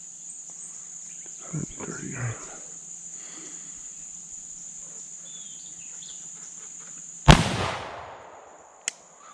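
An 1847 Colt Walker revolver fires one 230 grain bullet: a single sharp, loud blast with a ringing decay that cuts through a quiet outdoor background with faint chirping and a low hum, then a small click just after.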